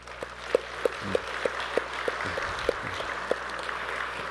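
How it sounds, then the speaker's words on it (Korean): A church congregation at a Sunday worship service claps to comfort and encourage a bereaved family, a fairly soft, even spread of applause threaded with regular, sharper clap accents. "일어나시면 우리가 박수로 위로하고 또 격려하도록 하겠습니다"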